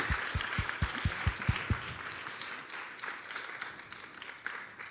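Audience applause at a university intern final presentation in Oklahoma, a dense, steady patter of many hands clapping that begins with several sharp, close claps and continues evenly to the end.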